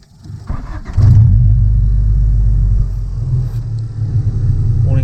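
A Honda Civic, just back from suspension and clutch repair, starts off on a test drive: a loud, steady low engine rumble that swells after the first second and holds, with no talking.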